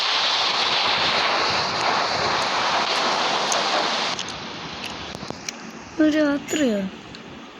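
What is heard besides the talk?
rain falling at night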